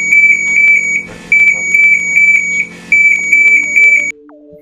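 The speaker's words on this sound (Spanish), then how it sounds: "Estas alarmas tendrán un aviso luminoso y sonoro claramente diferenciado." A fixed gas detector alarm at the ArcelorMittal Avilés steel plant sounds loud repeated electronic beep bursts in several pulsed groups, then cuts off abruptly, leaving a lower steady tone.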